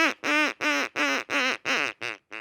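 A hand-carved wooden duck call blown to imitate a duck, giving eight loud, close, evenly spaced nasal quacks in a falling rhythmic series, the last ones shorter.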